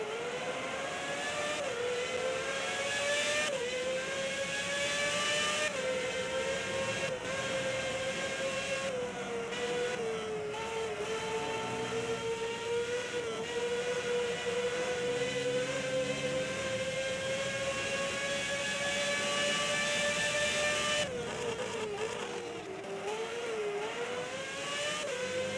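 A Formula 1 race car from the 2006 game, on a flying lap at the Turkish Grand Prix, holds a loud, sustained high-pitched engine wail. Pitch climbs through the gears and drops under braking, with no talk.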